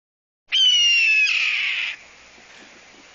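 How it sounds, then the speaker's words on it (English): A raptor's call, the kind used in movies for a bald eagle, gives one long, harsh, descending scream, loud and close, then fades to quiet. "this is the sound they use for a bald eagle"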